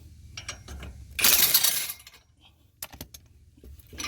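An impact gun rattles loose a 14 mm exhaust bolt on a Toyota Corolla Hatchback during a catback exhaust install, one harsh, loud burst of about a second amid scattered clicks and clanks of tools.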